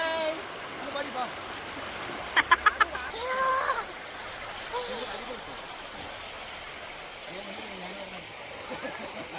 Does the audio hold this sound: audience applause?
no